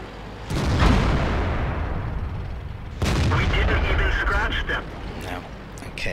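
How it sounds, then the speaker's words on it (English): Tank cannon fire in World of Tanks from a Type 59 Chinese medium tank, with two heavy booming shots about three seconds apart, each followed by rumbling decay, while someone talks over the action. "Nice shot into the side."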